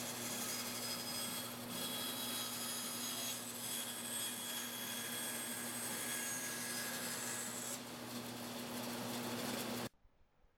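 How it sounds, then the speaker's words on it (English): A bandsaw slices pallet-wood boards for the gables of a wishing well: a loud, steady whining drone with a constant hum that runs unbroken for about ten seconds, then cuts off abruptly into near silence. "it was over to the bandsaw to cut the boards for the gables"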